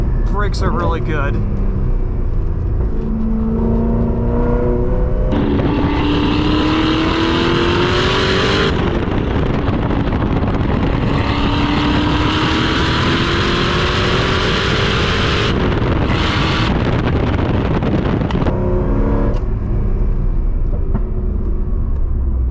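Engine of a 2008 Chevrolet Corvette C6RS by Pratt & Miller heard from inside while driving on a tight road, revving up and down through several loud acceleration pulls with gear changes and constant road roar.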